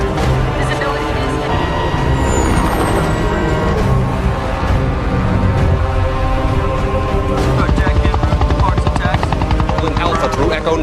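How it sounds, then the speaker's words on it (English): Military helicopters fly toward a crashed alien ship in an alien invasion film battle scene, their loud rotor thump running steadily throughout inside a dense, busy mix of effects and score. "Get those helicopters away from the ship."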